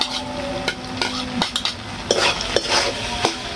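A utensil stirs macaroni with fried egg in a pan over a clay stove, giving repeated metallic scrapes and clinks over a steady, soft sizzle, close and clear with no talking.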